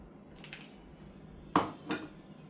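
A spoon clinks against a dish while fresh mango ginger and plain turmeric are mixed, with a faint scrape followed by two sharp, close knocks against the bowl, in an otherwise quiet room.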